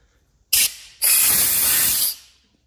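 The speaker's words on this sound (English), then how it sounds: "This air compressor I got, I'm gonna blow air through it to clean it out some more." An air compressor blows compressed air through a furnace part to clean it, heard as a brief close hiss followed by a longer loud, steady blast of air that then cuts off.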